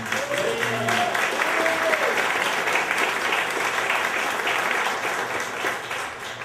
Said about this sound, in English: another round of applause for Greg for putting this together.